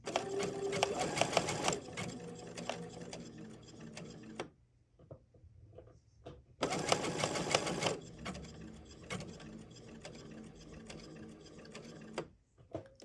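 A Baby Lock Chorus sewing machine stitches a one-step buttonhole, its needle whirring and clattering close up in two bursts separated by quiet pauses, with a few faint clicks in between.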